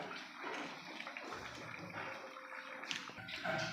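Running water splashes steadily as fish is washed for a Tamil-style fish curry with coriander powder, turmeric, tamarind and raw mango, a continuous close rinsing sound with small splashes, no speech.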